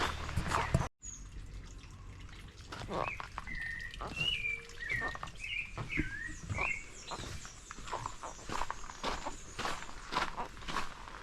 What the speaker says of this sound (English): Some amazing birds chirping.